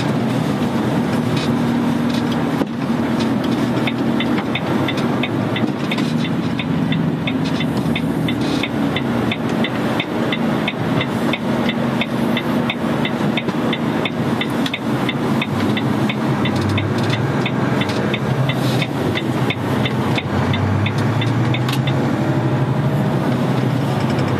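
A vehicle's engine pulls steadily back up to speed during a test drive, a loud, constant rumble and drone lasting throughout with road noise and no speech.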